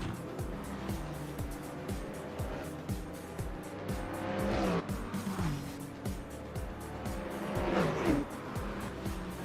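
Ford Mustang and BMW race cars roar past at speed on a circuit, engines rising and falling through several loud close passes with tire squeal on the hard moves, continuous and dense.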